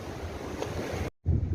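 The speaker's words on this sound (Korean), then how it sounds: "아주 아름답고 파도 소리 좋습니다." Sea waves at Gyeokpo port in Buan, Jeonbuk, near the Chaeseokgang cliffs, wash in a close, steady broadband rush with wind on the microphone. The sound cuts out briefly near the end, then returns.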